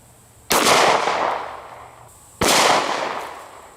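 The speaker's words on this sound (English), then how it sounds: "We're going to be using a Glock 19 and we're going to be loaded up with some 9mm" Two loud, sharp shots from a Glock 19 pistol loaded with 9mm 124 grain full metal jacket rounds, fired at a steel plate, about two seconds apart, each with a long ringing decay.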